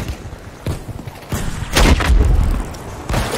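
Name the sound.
artillery explosion in a video game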